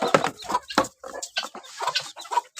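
Several chickens cluck and murmur close by, a busy run of short, overlapping clucks with no talking.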